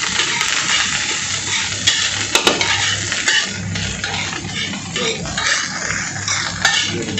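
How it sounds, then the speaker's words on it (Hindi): Chicken Manchurian mixture with white and black pepper stirred in a pan, steady sizzling beneath repeated metallic spatula scrapes and clinks, close and continuous with no talking. "इसको अच्छे तरीके से मिक्स कर दें।"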